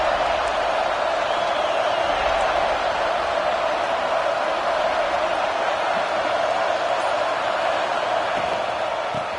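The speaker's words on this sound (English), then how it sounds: "It's early, but this crowd is fired up. Listen to this noise here." Dense, steady roar of a football stadium crowd before a game, filling the whole stretch at an even, loud level with no single voice standing out.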